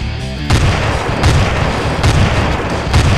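Rocket explosions from the Team Fortress 2 video game boom loudly in a repeating sequence, four or five heavy blasts spaced about a second apart over a continuous rumbling din.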